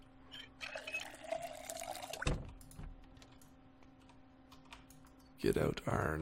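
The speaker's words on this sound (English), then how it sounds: "Let's fill up our water." Water trickling into a bottle in the zombie survival game Project Zomboid, following a burst of keyboard typing, with someone talking over parts of it.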